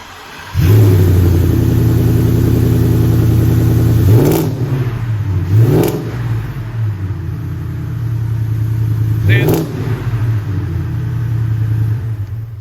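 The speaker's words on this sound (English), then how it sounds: "The exhaust system sounds really, really good." A 2022 Ford F-150 pickup with LTH headers and aftermarket exhaust roars into a steady, deep idle-rev, punctuated by three sharp throttle blips that rise and fall, loud and close.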